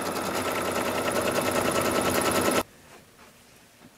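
An embroidery machine stitches an outline on cardstock for a greeting card, making a fast, steady mechanical rattling hum that stops abruptly, leaving quiet room tone.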